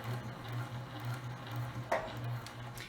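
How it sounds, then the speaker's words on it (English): Sewing machine running along the edge of a fabric placemat, a quiet low pulsing hum with regular rhythmic thumps and a faint tick near the end. "I'm going to continue to sew all the way here at the end"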